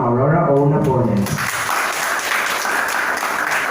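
An audience applauds a judge being introduced at a school debate event; a speaking voice comes first, then dense, steady clapping swells and holds loud to the end.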